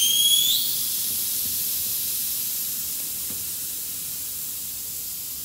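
Air rushing out of a tubeless bicycle tire as the valve core is removed, a loud, close, steady hiss that starts sharply and slowly fades over several seconds.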